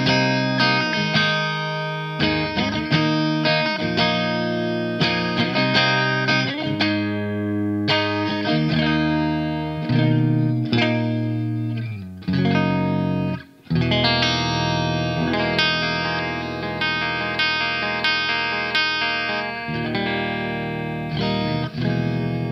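A Fender JagStang electric guitar with both pickups engaged plays through effects, giving sustained, chorused and distorted chords that ring continuously and stay loud and close, with no voices.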